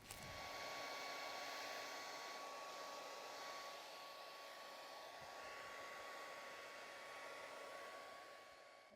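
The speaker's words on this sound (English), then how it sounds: "Now it's time to get the hairdryer out on our beach scene and create the waves" A hairdryer blows steadily across poured epoxy resin on a beach-scene artwork, pushing waves, with a loud continuous whir that fades slightly toward the end and no talking.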